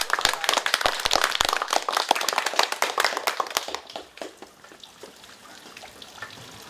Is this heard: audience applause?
yes